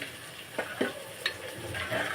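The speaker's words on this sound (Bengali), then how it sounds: "সবজিগুলো ভাজা হয়ে গেছে।" Vegetables frying in a pan of oil, stirred with a spoon, for a vegetarian curry. Soft, steady sizzling sounds close by, broken by a few brief scraping stirs. No one speaks.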